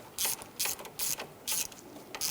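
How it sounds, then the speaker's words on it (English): A hand ratchet clicks in five quick, evenly spaced bursts while snugging a nut on the starter of a 1999-2004 Jeep Grand Cherokee, close and fairly quiet with no talking. "Go ahead and snug that nut down."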